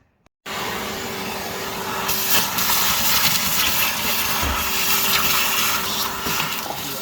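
A Henry vacuum cleaner runs steadily up close, its loud motor roar broken by rattling bursts as it sucks disintegrated radiator debris out of the front slam panel of an Accord Type R track car.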